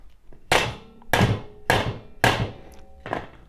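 Five loud, evenly spaced hammer blows while assembling a Weber kettle grill, each a sharp thunk with a short ringing decay, struck close by with no talking.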